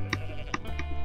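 A goat gives three short bleats at an even pace, faint and somewhat distant, against a steady low hum.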